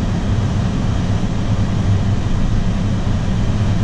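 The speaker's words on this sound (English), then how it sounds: "Crank the air conditioner down to 60 in the cabin." A Toyota Tundra's cabin air conditioner runs at full blast, a loud, steady blower roar that stays even throughout with no voices.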